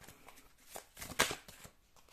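Oracle cards are drawn and shuffled in a brief soft riffle of close papery flutters that peaks with one sharper card slap, with no voice heard.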